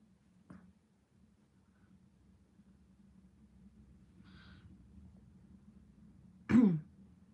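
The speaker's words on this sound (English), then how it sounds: "I'm still coughing a bit with it" A short cough early on, then a louder, harsh throat-clearing burst near the end, both close and alone over a low background hum.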